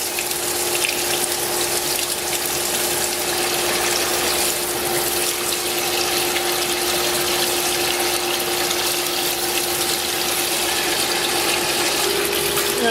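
A Zeco Pro 3 oil pump fills a fryer with a steady motor whine and continuous rushing flow of liquid, constant and close for the whole stretch.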